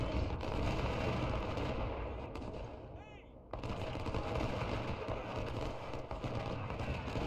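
Gunfire from cavalry flanking shots in a Civil War strategy video game, with dense, continuous rattling volleys that briefly thin out and then resume at full loudness.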